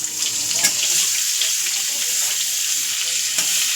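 Butter added to hot oil in a kadai over a low gas flame, giving a loud, steady crackling sizzle with occasional sharper pops.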